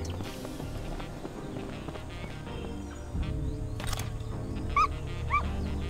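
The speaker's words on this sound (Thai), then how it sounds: "นั่นมันลูกหมานี่มันนี่เร็วนะเจ้าหมาน้อยนะ" A puppy in the zombie survival game Doomsday Last Survivors, with brief yelps and barks over game ambience and footsteps, one bark louder near the end.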